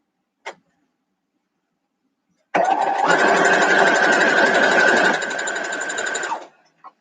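A sewing machine stitches a quilt block in a quick rapid-fire burst of a few seconds after a brief click, the motor's whir close and steady, then easing slightly before stopping.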